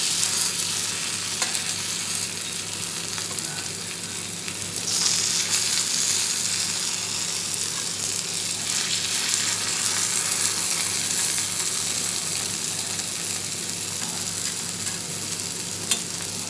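Ghee appam (Kerala unniyappam) fry in a pan with a continuous dense hiss of sizzling oil, steady and close with slight swells, a few faint clicks, no talking.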